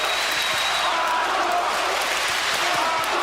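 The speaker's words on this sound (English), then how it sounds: "The crowd chanting for Arthur Abraham in the white trunks." Boxing crowd in an arena chanting for Arthur Abraham during his fight with Jermain Taylor, a steady, dense roar of many voices with no breaks across the few seconds.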